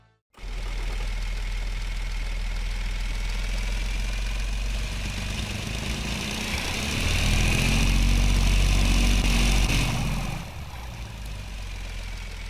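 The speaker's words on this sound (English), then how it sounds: "let's see what this low revving engine sounds right here" A low, rumbling video game car engine with a 2,000 RPM redline idles and revs gently, its drone rising slightly in pitch and loudness before settling back down, steady and close with no voices.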